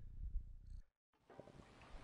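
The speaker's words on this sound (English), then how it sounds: "it purrs when you load in" A video game cat purrs on loading in, a soft low rumbling purr that breaks off into a brief silence before a broad noisy ambience takes over.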